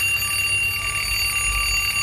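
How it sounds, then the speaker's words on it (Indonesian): An alarm clock rings steadily as a sound effect in a narrated horror story, a continuous electronic tone with a buzzing edge lasting the whole moment, loud and alone without any voice. "ternyata itu adalah suara alarm"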